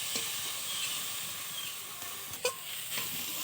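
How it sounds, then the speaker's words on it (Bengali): Prawns frying in a pan, a steady close sizzle and hiss with occasional small pops and stirring scrapes. "চিংড়ি মাছগুলো একটু পরে দিলাম, দিয়ে এবার ভাজা করবো।"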